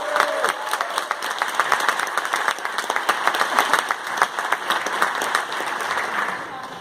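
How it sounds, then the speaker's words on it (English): Audience applause fills a conference hall at the Reasons To 2017 event, steady dense clapping with some crowd noise that holds throughout before tapering slightly at the end. "Please put your hands together for this year's Elevator Pictures."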